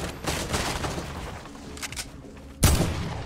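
Gunfire in a Fortnite match crackles in fast bursts behind steady game noise, ending with one loud, close shot near the finish.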